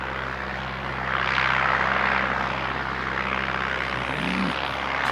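A Jetstar airliner on flight 236 to Auckland departs, a broad roaring engine rumble with a whooshing high-pitched jet tone that swells slightly and holds steady at middle distance, with no talking.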